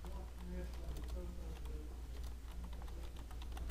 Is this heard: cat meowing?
no